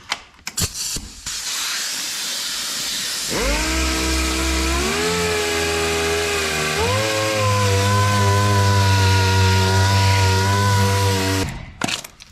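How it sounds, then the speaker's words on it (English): Power sander working truck body filler with 80 grit in a shop, a steady loud whir that rises in pitch and holds for several seconds before cutting off, close up. "So I'm gonna have to sand all of that out of there"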